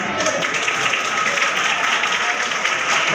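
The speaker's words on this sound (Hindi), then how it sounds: "जरा जोरदार तालियों से हिम्मत अफजाई कीजिए" Audience at an award ceremony for top-scoring students applauds with dense, steady clapping throughout, loud and continuous with no voices over it.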